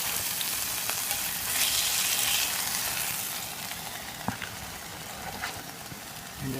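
Onions sizzle and fry in a hot pan that just held steaks, a steady close frying hiss with a few small pops and stirring sounds, no talking.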